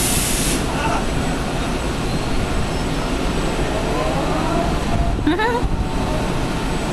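Electric locomotive mules moving along the track beside a Coral Princess cruise ship in the Panama Canal, a loud, steady rail-like rumble and hiss throughout, with brief voices partway through.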